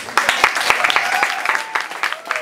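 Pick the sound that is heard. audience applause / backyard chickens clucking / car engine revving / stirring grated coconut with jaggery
audience applause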